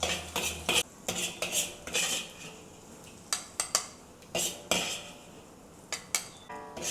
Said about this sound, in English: turn off the stove and I need to remove all this from the wok